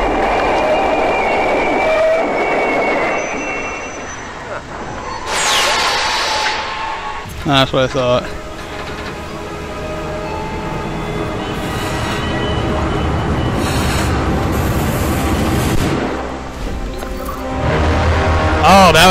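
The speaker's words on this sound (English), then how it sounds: "Oh, that was my train, derp." Train in the stealth game Hitman Absolution, a broad rumbling rail roar with clattering wagon noise that swells and fades over about twenty seconds, heard beneath someone talking.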